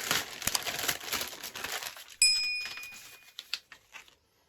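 A large plastic mail package from a mystery box is handled and opened, crinkling and rustling close up with sharp crackles and a brief tearing burst, then fading to quiet.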